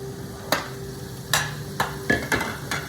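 Steak fried rice stirred in a hot pan, with several sharp scraping clacks of a utensil against the pan at irregular intervals over a low sizzle, close and fairly quiet.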